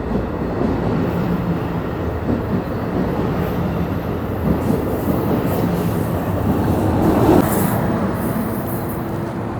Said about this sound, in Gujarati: ટ્રેન હવે અહીંથી નીકળી છે. આ છે અહીંની લોકલ ટ્રેન, એનજે ટ્રાન્ઝિટ કહેવાય